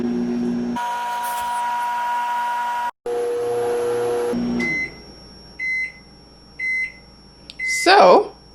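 A microwave oven set for 45 seconds, a steady humming drone running for several seconds with a short break, followed by a series of electronic beeps and a brief rustling clatter at the end.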